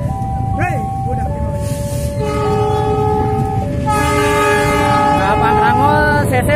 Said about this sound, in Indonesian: kereta api Pangrango lewat di stasiun Parungkuda ya